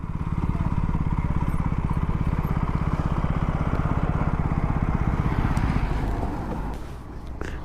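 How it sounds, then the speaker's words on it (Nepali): Several motorcycles at a cafe parking area, one engine idling close and loud with a steady, rapid throbbing beat that eases slightly toward the end. "बाइकै बाइक छ"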